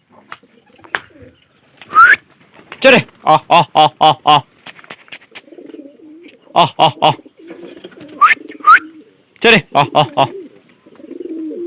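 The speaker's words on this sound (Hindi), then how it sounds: "देखो अपने कबूतर बाहर निकल रहे हैं" Domestic high-flyer pigeons coo in short repeated bursts close by, with someone speaking briefly between the calls.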